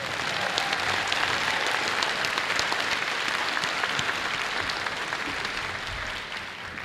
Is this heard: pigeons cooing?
no